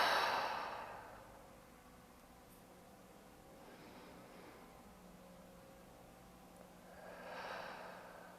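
Slow, audible breathing during a gentle yoga flow, with soft exhales at the start and end and a fainter breath in between, close and quiet in an otherwise calm room.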